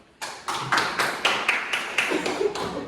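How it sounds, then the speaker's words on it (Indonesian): Classroom students clap together in a steady rhythmic pattern, roughly ten crisp unified claps evenly spaced, moderately near and alone without talk. "Tepuk tangan dulu"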